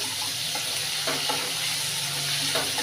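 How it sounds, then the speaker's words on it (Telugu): Curry leaves and onions frying in a pan, a dense continuous sizzle with soft stirring scrapes, close and fairly loud. "కరివేపాకు వేసుకుందాం అండి. బాగా వేగాలి. ఉల్లిపాయలు"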